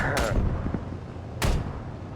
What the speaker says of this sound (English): Uh-oh, shots.